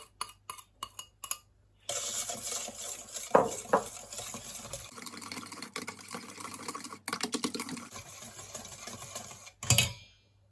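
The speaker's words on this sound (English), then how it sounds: "And now I'm going to be adding my egg, and I will continue mixing." Cinnamon roll dough being mixed after an egg is added, giving a run of soft, uneven scraping and clicking strokes in a bowl, with a few sharper taps and brief pauses and no talking.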